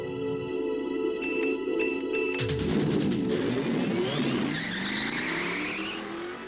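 A Porsche 944 and a Volvo 740 Turbo Wagon are driven: a steady engine drone builds into a loud, rising rev with a sweeping pass-by and a brief tire squeal near the end, with no talking.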